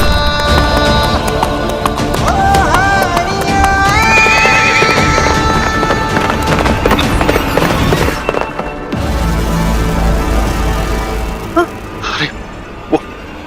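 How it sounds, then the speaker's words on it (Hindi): Groom's wedding mare neighing among clopping hooves, set in a loud, busy wedding procession with music, bangs like firecrackers and voices mixed throughout. "अरे भाई ये दूल्हे की घोड़ी है।"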